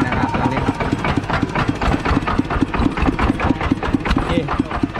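Small engine of a used walk-behind tractor idles close by with a rapid, steady chugging beat and a slight knock, running loud and even throughout with no talking.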